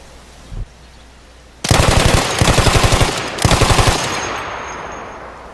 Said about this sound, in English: we just fired upon this tree with a machine gun and we basically cut it down with our rounds